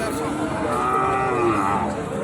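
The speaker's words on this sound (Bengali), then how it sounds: "দর্শক ইন্ডিয়ান গরু রয়েছে" At a cattle market, an Indian cross-breed cow lows in a drawn-out moo over a busy crowd murmur, with people talking around it.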